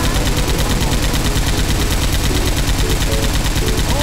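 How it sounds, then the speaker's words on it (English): M60 machine gun firing frag rounds in a video game, a continuous dense roar of rapid automatic fire with heavy blasts, very loud and unbroken throughout. "Putting down frag rounds."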